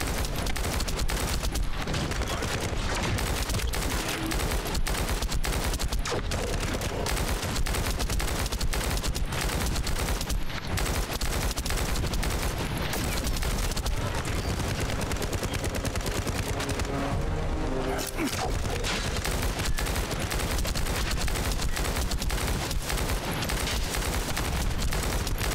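Sustained heavy gunfire from a futuristic looter-shooter battle in The First Descendant, with dense rapid automatic bursts and explosive booms running continuously at loud, steady intensity throughout.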